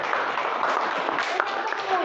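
A classroom group applauds a student during a practical cable-assembly lesson, a short burst of steady, moderately loud clapping with light crowd murmur beneath.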